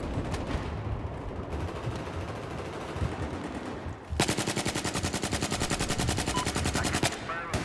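Sustained automatic gunfire in the Battlefield 4 video game on the Sunken Dragon Conquest map, from a G36C rifle: loud, dense battle noise, then a long, rapid, evenly pulsed burst of close shots with almost no talk.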